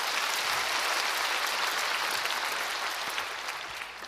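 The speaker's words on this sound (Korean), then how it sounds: "네 분에게 큰 박수 드립니다" A church congregation applauds after a baptism prayer, a dense, steady wash of clapping from many hands that fills the room evenly and eases off slightly toward the end.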